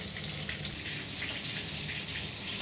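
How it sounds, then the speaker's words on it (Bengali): Chicken frying on a high flame for a chili chicken dish gives a dense, steady sizzle and crackle that stays close and even throughout, with no talk over it. "হাই ফ্লেমে 2 মিনিট ভেজে নেব।"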